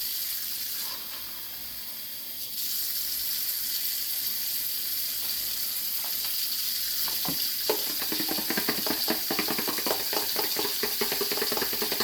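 Gravy mix from a packet is stirred into a pot for a Thanksgiving pot roast, giving a steady sizzling hiss overlaid with rapid scraping and sloshing strokes that grow busier toward the end, with no talking.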